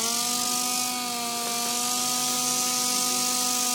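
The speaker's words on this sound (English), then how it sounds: "So we're going to start sanding here." A power sander works over a car's clear coat, giving a steady, continuous mechanical whine with a hissing grit layer, close and unbroken throughout with no talking.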